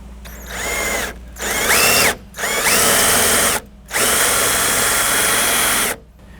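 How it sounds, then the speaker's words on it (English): A power drill with a 1/4-inch bit drilling out a rivet nut in a 1995–99 OBS truck door whines in four bursts of drilling, separated by short pauses, loud and close. "you want to get a drill, the 1/4 inch drill bit, and you want to drill this riv nut out"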